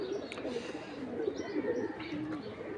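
Pigeons basking in the sun coo in a low, continuous, overlapping murmur with a few soft chirps, close by and steady throughout.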